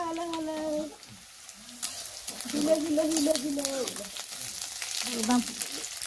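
Onions frying in a pan on a homemade wood-fired mud stove, a steady soft sizzle with occasional stirring scrapes, heard beneath someone talking close by and a voice.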